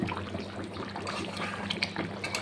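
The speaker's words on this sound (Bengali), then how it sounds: "এবার আমি ঝোলটাকে আরও কিছুক্ষণ ফুটিয়ে নিব" Fish curry gravy (bowal fish paturi) simmers in a pan, giving a soft, continuous bubbling and popping that stays fairly faint and even throughout.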